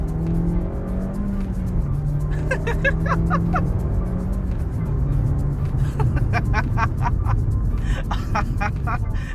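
A 2022 Suzuki Swift Sport hot hatch accelerating at full throttle, its engine drone rising steadily and held loud and close throughout, with a person talking over it.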